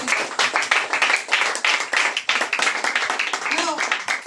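A church congregation claps during a worship service, quick uneven bursts of hand claps mixed with voices calling out and talking over them.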